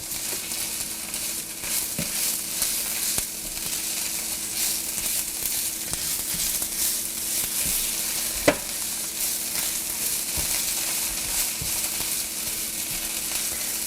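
Tomato paste and ground cumin frying in a pan for an ancho chile enchilada sauce, a steady close sizzle broken by occasional sharp spoon taps and scrapes from frequent stirring, with no talking.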